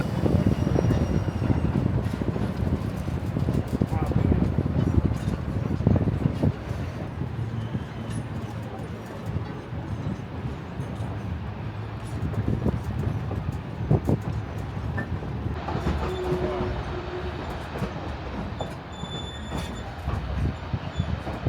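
Narrow gauge Durango & Silverton train rolls along tight curves through rocky mountain terrain, a loud continuous rumble of wheels and wagons with rattling and creaking, softening midway and picking up clatter and a faint squeal later.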